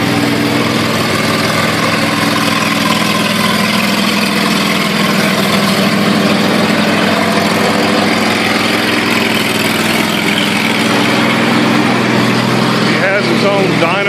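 A small 22 horsepower engine runs on a dyno stand, a steady loud idling drone held throughout while a person talks over it.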